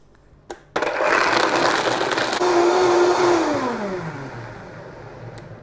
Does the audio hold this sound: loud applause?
no